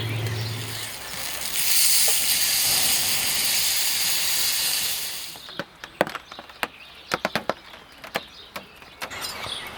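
Corn fritters and bacon frying on a camp stove during a spring camping trip, a steady loud hiss and sizzle for about five seconds, then quieter with sharp clicks and taps of utensils against the pan.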